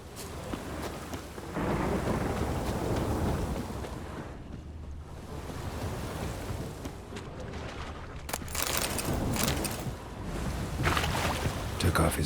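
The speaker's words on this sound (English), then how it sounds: "A storm, damn it." Thunderstorm with rain in The Witcher 3: a dense, continuous roar of rain and low rumbling thunder that swells and fades over several seconds, with a sharp crack near the end, and someone speaking at times over it.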